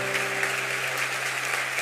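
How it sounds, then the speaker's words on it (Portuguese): A church congregation claps for a newly welcomed believer, a dense steady round of applause heard close and fairly loud over a low sustained musical tone. "Vamos aplaudir ele."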